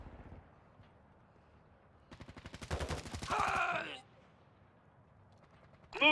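Gunfire in Call of Duty: Modern Warfare II multiplayer, a rapid rattling burst of shots with a denser volley after it, then a brief sharp sound at the end, heard among game sound and radio-style announcer voice.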